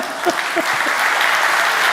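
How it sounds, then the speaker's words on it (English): Brief applause from the audience at a talk by Scott Galloway on the American dream, a steady dense patter of clapping at moderate loudness lasting the full two seconds. "that gets applause"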